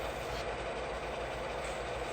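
An HO scale model train runs steadily along its track, a continuous low rumble and hiss with no voices, close and unbroken throughout.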